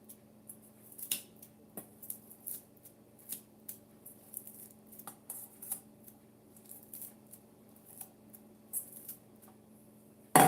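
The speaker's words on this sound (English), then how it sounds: "Chomping through a lot of leaves, and these are not kitchen shears. They're craft scissors." Craft scissors snip through a pile of sweet potato leaves in a long run of quiet, uneven cuts, each a brief crisp chop with small rustles between, close and alone with no talking.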